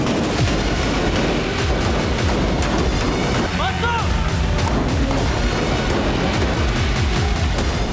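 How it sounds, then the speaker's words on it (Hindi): Israeli army bombardment in Khan Younis sounds as dense, repeated blasts and sharp cracking impacts at an irregular pace, with a voice speaking over the barrage. "इजरायली सेना की बमबारी में खान यूनिस बुरी तरह से जल रहा है।"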